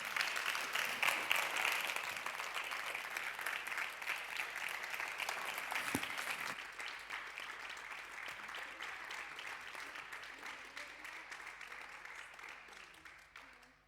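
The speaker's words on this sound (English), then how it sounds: "I heard the clapping." Sustained applause from an audience, a dense patter of many hands clapping that gradually thins and fades toward the end.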